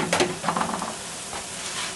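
Shepherd's pie filling being stirred in a pan after flour goes in, a close, soft sizzle with a few quick scraping strokes at the start that then settle into a quieter steady simmer.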